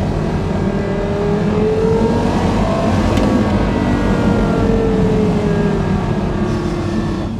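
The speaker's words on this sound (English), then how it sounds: "How light the flywheel is and how quick it revs. Listen to that." A Porsche Carrera GT engine with a very light flywheel revs loudly and continuously, its pitch rising and falling quickly in a dense, snarling roar that fills the whole stretch.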